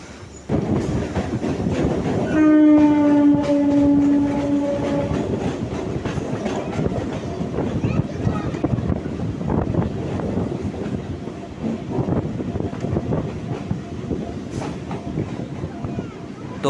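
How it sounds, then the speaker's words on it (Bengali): A train rumbles into New Alipore station in Kolkata with a long horn blast, then wheels clatter steadily on the tracks as it rolls along nearby. "ট্রেন চলে এলো নিউ আলিপুর স্টেশনে"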